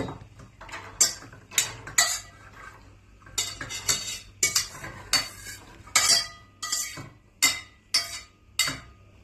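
Repeated scraping and clinking of a utensil against a metal pot as beans are tipped in, in uneven bursts, close by with no talking.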